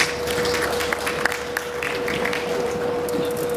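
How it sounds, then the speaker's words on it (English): Steady, crackling applause from an audience, even and continuous throughout, with a faint high tone held underneath. "I think we deserve a round of applause for that."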